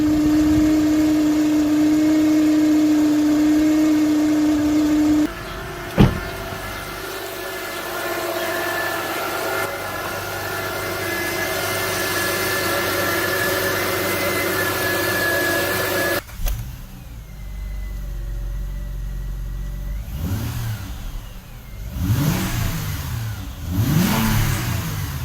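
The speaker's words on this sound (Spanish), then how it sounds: "Cuando los diodos están dañados, podría escucharse un ruido o observarse así." A car engine runs with damaged alternator diodes, giving a steady mid-pitched hum with a whining tone for the first stretch, then revving and dropping in pitch in several swells near the end.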